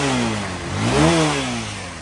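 An old carbureted vehicle engine runs nearby, climbing in pitch through a single rev and then easing back down to a steady, loud drone.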